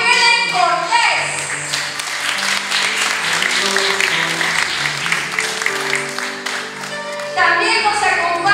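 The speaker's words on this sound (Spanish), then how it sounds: "Recibamos con un fuerte aplauso a Helen Cortés." Guests at a quinceañera party applaud to welcome a guest, a loud burst of clapping with music and voices underneath that fades and then swells again.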